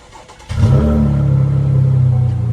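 A Chevrolet Camaro RS engine starts, catches abruptly and settles into a loud, steady, rumbling idle close by, with no talking.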